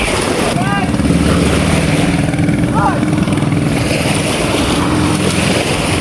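A motorboat engine runs steadily on the sea at high tide near Masinloc, where many boats are being tested, its low, constant drone heard close by with short voices rising over it.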